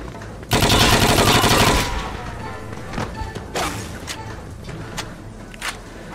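Mafia II gunfire bursts out as a loud, dense spray of rapid shots lasting over a second, followed by scattered single cracks and impacts.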